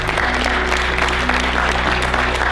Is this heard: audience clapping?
yes